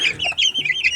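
Young chicks, the offspring of a knockout fighting rooster, chirp and peep in a busy, continuous high-pitched chatter, close by and fairly loud, with no talking.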